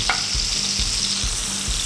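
Steady sizzle of butter with a little oil in a hot pan, a bright continuous hiss with soft low thumps recurring about every half second underneath.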